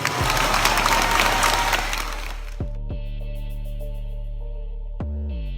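An audience claps loudly and densely for about two and a half seconds during a Thai political talk, and the clapping stops abruptly, leaving quiet sustained tones behind.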